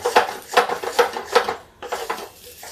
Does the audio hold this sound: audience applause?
no